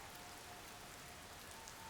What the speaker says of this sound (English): Phoebe and Penny walked along Main Street, huddled together beneath an umbrella in the rain